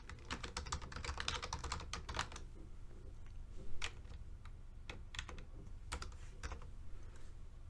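Rapid typing on a computer keyboard, clusters of quick clicky keystrokes in bursts with short pauses and a few isolated taps, close and fairly quiet with no talking.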